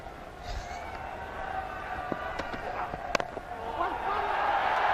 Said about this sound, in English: Gets off the mark, and a huge cheer from the crowd.